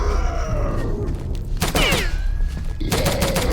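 A Nazi zombie enemy fires in a video game, with bursts of gunfire cracking through a busy backdrop of game noise, along with whistling, sliding tones and a zombie groan.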